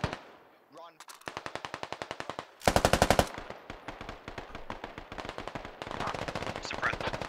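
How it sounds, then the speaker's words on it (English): Automatic machine-gun fire in a video game firefight near West Petrivka: rapid sustained bursts, the loudest about midway, with scattered shots and a voice talking at the start. "And the firefight has begun."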